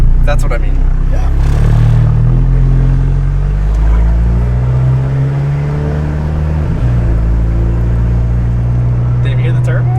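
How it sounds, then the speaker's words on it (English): A MK6 VW GTI with a built motor accelerates, its loud engine drone rising and shifting through gears with a turbo whoosh over the top, while people talk inside the car throughout. "Did you hear the turbo?"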